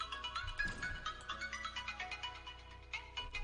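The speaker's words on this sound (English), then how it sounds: "Amazing ringtone." Phone ringtone playing a quick, repeating melodic pattern of bright tones, fairly quiet, with soft low thuds in the background.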